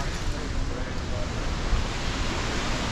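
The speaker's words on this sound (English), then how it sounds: "We're gonna go over here and look at the waterfall." Rainbow Falls in Hilo, swollen and muddy after recent rain, pours in a dense, steady roar of rushing water heard close and loud throughout with no break.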